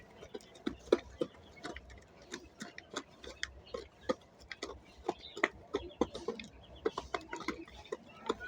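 Two tiger chickens recovering from illness peck together at feed beside a pond, giving a steady, uneven run of crisp close taps and clicks with occasional faint clucks.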